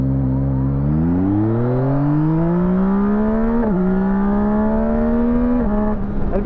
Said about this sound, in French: on va mettre gaz en grand feu